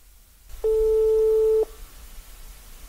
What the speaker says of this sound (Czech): Tak já už tady ťukám do telefonu.